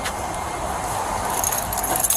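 Car keys jangle and clink in a continuous close rustle, getting busier toward the end, with no talking.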